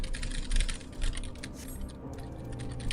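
Frantic keyboard mashing, a flurry of overlapping key clicks on a computer keyboard while playing Final Fantasy XIV, close and continuous with brief surges, no talking.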